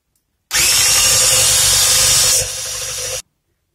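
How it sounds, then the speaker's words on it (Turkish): An electric hand mixer whisks eggs and sugar for a lemon cake batter, a loud steady whir that runs about three seconds, dropping in pitch and volume partway through before cutting off abruptly, with no voices. "Yumurta ve şekerimi güzelce çırptım"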